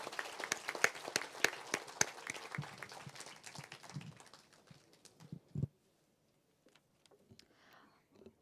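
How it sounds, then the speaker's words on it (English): Scattered applause from a seminar audience for panelists, sparse individual claps close by that thin out and fade to near silence, with a few last isolated claps near the end. "let's give a big round of applause to our panelists"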